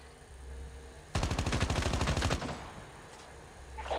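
Rapid automatic gunfire in the Call of Duty Mobile game, a loud burst of quick repeated shots lasting over a second, then fading into quieter game ambience.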